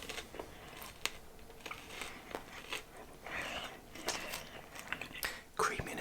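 Close, quiet biting and chewing of crunchy Ritter Sport chocolate, irregular crisp crunches and mouth sounds spread across several seconds, with soft whispering in between.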